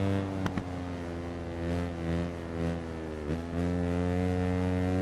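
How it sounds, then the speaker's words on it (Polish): Motorcycle engine in the racing game Ride 4, a steady droning hum with a smooth harmonic whine that dips briefly and recovers, loud and continuous with no talk. "Zobaczę ile tutaj wyciśnie ten motocykl."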